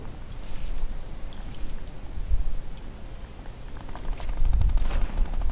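Minigun fire in a multiplayer video game match, a steady fast-rattling stream of shots with heavier thumps at moments, loud and continuous throughout.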